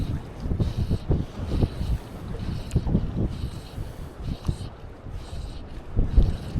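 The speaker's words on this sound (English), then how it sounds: "Hopefully this wind drops back off." Gusty wind buffets the microphone beside water while fly fishing for pike, a continuous rumbling roar rising and falling in uneven bursts.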